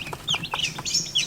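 Baby chicks cheeping in a brooder, a quick run of high, bright peeps repeating close by with no talk.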